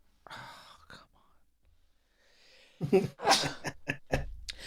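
A single sharp sneeze bursts out after a stretch of quiet whispering, followed by a few short voiced sounds close to the mic.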